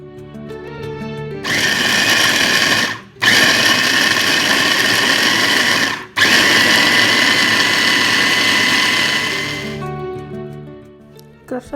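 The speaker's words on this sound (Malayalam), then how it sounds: "ഇനി നമുക്കിത് ക്രഷ് ചെയ്തെടുക്കണം" Chopped bottle gourd grinds in a kitchen crusher, a loud motorized whirring roar in three bursts separated by brief pauses, then winding down to quiet.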